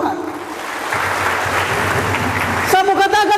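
A church congregation claps for God during a sermon. Steady, dense applause fills the room, then gives way to a tonal, voice-like sound near the end.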